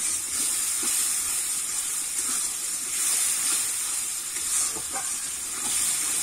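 Water splashed into a pan of sizzling spice paste while cooking jackfruit kofta curry gives a steady broad hiss and steam, with faint spattering throughout.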